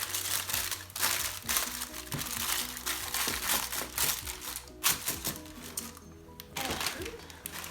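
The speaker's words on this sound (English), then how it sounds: "going to take the wax paper and put it at the bottom of the bowl" Wax paper crinkling and rustling as it is pressed into the bottom of a bowl for a craft, steady close crackling with brief louder crunches.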